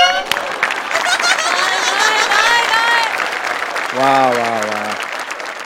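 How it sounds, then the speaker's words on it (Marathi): A comedy show studio audience breaks into loud, sustained clapping and cheering close by, with a voice calling out over it and a brief sung note near the end. "वा, जोरदार टाळ्या."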